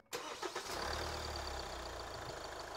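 A Hyundai Staria with the R engine starting during an oil change: a short starter crank catches quickly into a steady, close, low idle rumble.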